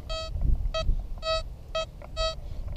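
An XP Deus metal detector in relic mode gives a target signal: five short, bright electronic tone bursts in an uneven rhythm, each clearly audible over low rumbling handling noise close by.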